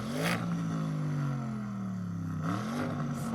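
An Audi RS6 engine revs hard against its soft limiter, a loud droning note that holds near the cutoff, dips slightly, then climbs back again, with no talking over it.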